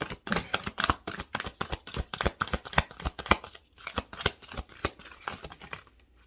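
A Starseed Oracle deck of cards is shuffled close up, giving a rapid run of crisp riffling slaps and flutters in quick bursts that fade out at the end.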